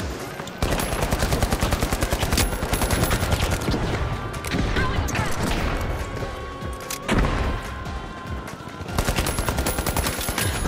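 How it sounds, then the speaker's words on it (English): Sustained automatic gunfire in The Finals video game, rapid bursts rattling almost continuously with brief pauses and a few heavier impacts. "Really, you're shooting at me, loser?"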